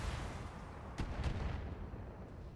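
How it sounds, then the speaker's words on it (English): Missiles fired by a mech in the video game BattleTech, two quick sharp thumping blasts in succession over a low rumbling background, moderately loud with no talking. "He's gonna come up here and fire missiles."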